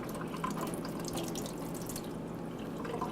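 Apples washed under a running kitchen tap, a steady close splash and trickle of water with light dripping and no voices.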